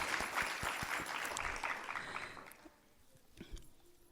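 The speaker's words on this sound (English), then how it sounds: "A huge round of applause." An audience at a birthday program gives dense applause after a children's performance, with a steady clatter of many hands that thins out and fades into scattered claps after a few seconds.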